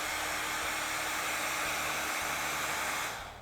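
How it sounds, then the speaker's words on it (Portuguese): A hair dryer blows on freshly painted decoration on a can, a steady, loud whoosh of air that runs without a break and then fades out at the end. "você vai pegar o secador, sempre que a gente pinta, geralmente ajuda"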